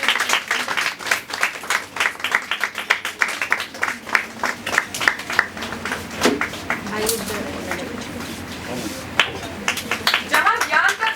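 Audience applause at an institution innovation council event for World Entrepreneurship Day, a spread of clapping hands running steadily through the stretch at moderate loudness, with a voice speaking over it.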